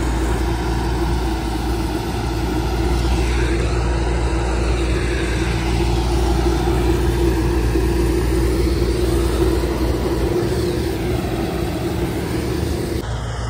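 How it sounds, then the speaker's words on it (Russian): A combine harvester engine drones steadily and loudly through a wheat harvest, a low constant rumble with no breaks or voices. "вот в чем прелесть уборки двумя комбайнами. Один выгрузился, второй на подъезде."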